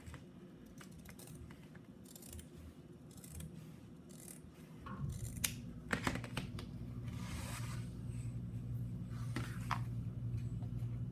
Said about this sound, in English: I will now lift that top layer over and cut down this side.